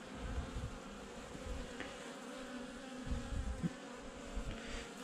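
Honeybees buzz steadily around an open hive during a late-autumn colony check before overwintering, a soft continuous drone heard fairly close with no talking.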